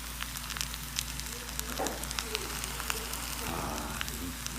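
A steady crackling sizzle from bibimbap in a hot stone pot, with scattered pops over a low background hum, close and continuous throughout.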